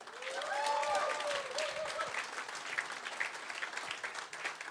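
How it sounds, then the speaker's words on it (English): A town hall audience breaks into sustained applause, a dense wash of clapping that swells early, holds steady, and carries some faint crowd voices underneath. "let's give a huge round of applause to our San Jose Downtown Association"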